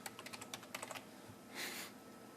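Rapid, close keystrokes clatter on the keyboard of a new gaming PC, a quick run of distinct clicks followed by a brief soft rustle, with no talking.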